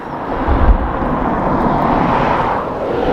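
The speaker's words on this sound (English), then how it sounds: "next up we've an ATR-600 flight EI3403 coming in from Donegal" An eight-year-old ATR 600 turboprop airliner, flight EI3403 from Donegal, comes in to land at Dublin Airport, giving a steady, moderately distant engine roar with a brief low swell early on.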